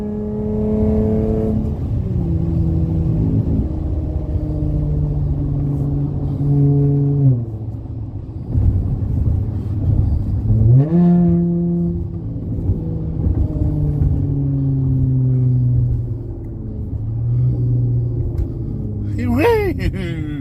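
A car fitted with MagnaFlow Magnapack exhausts revs and accelerates on a road at night, a loud, steady engine drone that rises and drops through repeated gear changes, with an occasional whoop from the driver over it.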